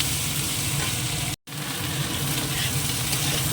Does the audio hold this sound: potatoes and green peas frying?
yes